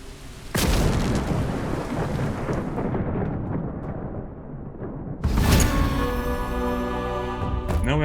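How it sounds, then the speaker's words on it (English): Thunderstorm spell cast in the video game Drova: loud booming thunder crashes, one rolling rumble fading out followed by a second sharp crack with ringing, crackling tail. "60 seconds of raining down thunders on your enemies."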